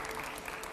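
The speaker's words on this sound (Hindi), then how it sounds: "जोरदार तालियों सुधांशु जी" Brief burst of dense applause from a live audience at a political talk event with Sudhanshu Trivedi, steady and even across the short moment.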